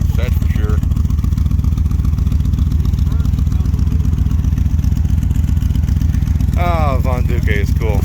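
A 1970s Dodge street machine van running on side pipes with no gas pedal, its engine knocking out a loud, steady, lumpy idle close by, with voices briefly talking over it near the end.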